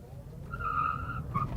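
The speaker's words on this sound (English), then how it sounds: "It's doing a lot of wheel spin there." A Chery Arrizo 5 EV electric car spins its wheels accelerating hard from a standstill in sport mode, a rising tire squeal held for about a second with a second short chirp after, over low road rumble and no talking.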